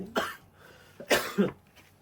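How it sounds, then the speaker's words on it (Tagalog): Three bursts of coughing, two sharp hacks and a shorter follow-up, recorded close and fairly loud during a casual card game of pusoy, with brief quiet gaps between them. "walang tigil na ubo."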